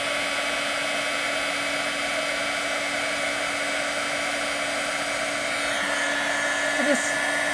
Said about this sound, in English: I'm going to take my heat tool and I'm going to heat all these little